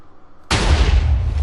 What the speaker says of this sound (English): So there it goes again. Nice big explosion.